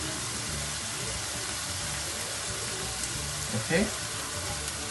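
Mixed vegetables sizzle steadily in a hot pan, a loud continuous frying hiss throughout with a brief stir-like clatter near the end; a short spoken word is heard over it.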